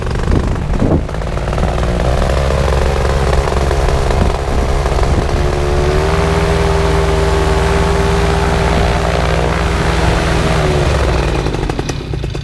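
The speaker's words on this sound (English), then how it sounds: "That's the Air Conception Nitro 200, guys. Right on. It sounds amazing." An Air Conception Nitro 200 paramotor engine runs loud and close with a steady rough drone, holding a constant idle throughout with no voices.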